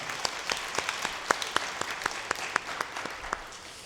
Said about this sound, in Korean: 우리 찬양 인도로 또 섬겨주시는 은평찬양팀 박수로 격려하겠습니다